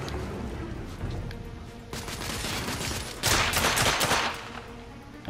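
Gunfire in the video game The Order: 1886 comes as loud bursts of rapid shots, intensifying in two heavier volleys toward the middle and end with no talking.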